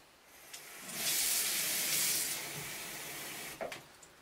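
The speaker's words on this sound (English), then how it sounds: "So I'm going to run some cold water here." Cold water runs from a tap in a film-developing sink, a steady loud hiss that starts after a second, holds for about two seconds, then eases to a lighter flow with a couple of small splashes near the end.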